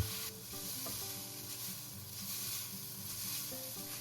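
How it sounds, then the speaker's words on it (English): Chow mein noodles sizzle steadily in a hot pan with chow mein sauce, shrimp and cabbage dish in progress, with a continuous close frying hiss and repeated scraping stir strokes throughout. "Stir fry the noodle until the color looks even."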